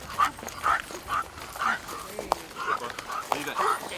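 Dogs at an off-leash obedience training session giving a run of short, repeated barks and yips at a steady rhythm, moderately close, with faint background voices in between.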